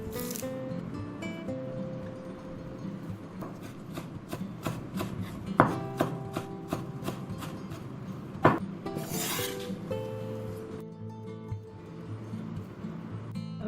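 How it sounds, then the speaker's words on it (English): Four stalks of curry leaves are cut for parippu vada, heard as close knife strokes and rubbing on a board at an uneven pace, with a couple of sharper knocks over a steady low background hum. "Four stalks curry leaves also cut."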